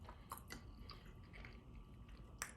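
Dumplings with butter being chewed close up, with a few crisp bites and soft wet mastication sounds over a low background, no talking.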